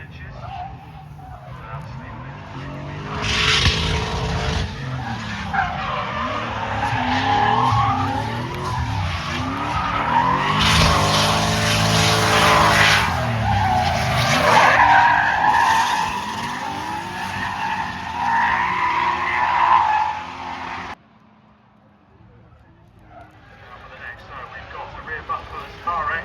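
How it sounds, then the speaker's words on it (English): A Mazda RX-7 and a BMW Estate drift at Tunerfest North, with loud tire squeal and skidding rising and falling over revving engines, then fading out. A commentator talks throughout. "the RX-7 is still trying to get that back end rotated into the drift"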